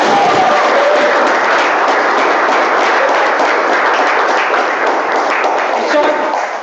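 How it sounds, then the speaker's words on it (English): A meeting audience breaks into sustained applause, a dense, loud wash of many hands clapping that holds steady throughout, with a few voices mixed in underneath. "So let's give a big round of applause for Ishan Shetty."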